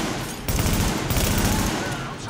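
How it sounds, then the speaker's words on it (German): Dense, continuous gunfire from the video game Tom Clancy's The Division fills the clip, a loud rapid fusillade with a brief break near the start, while a voice speaks faintly underneath. "ich hab's beschossen"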